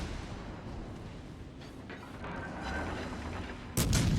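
Secondary guns of the battleship Odin firing in World of Warships: Legends: a few scattered muffled booms over a rumbling battle background, ending in a louder sharp blast near the end, with no talk.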